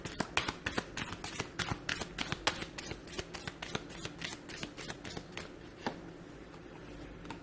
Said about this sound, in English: shall we give the angel cards a shuffle